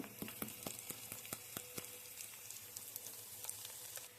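Cumin seeds and red chilies crackle in hot oil with mustard seeds for poha chiwda, giving a steady close sizzle dotted with many sharp pops throughout.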